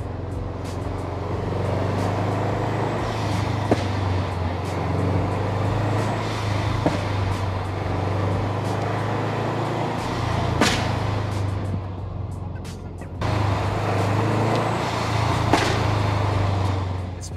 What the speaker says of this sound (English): the blow-off valve is making the car run rich, therefore it pops